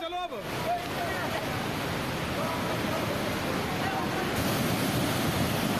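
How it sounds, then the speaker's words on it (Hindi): Floodwater surges after a cloudburst in Kullu, Himachal Pradesh, a loud, continuous rushing roar that fills the whole span, with a brief voice at the very start. "ये देखिए तस्वीरें, पानी का बहाव देखें।"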